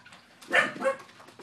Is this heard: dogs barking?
yes